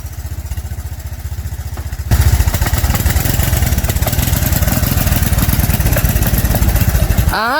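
A three-wheeler's engine runs steadily after being shifted into reverse, a loud, rapid mid-pitched chugging that picks up in intensity partway through and continues evenly before a brief whine at the end.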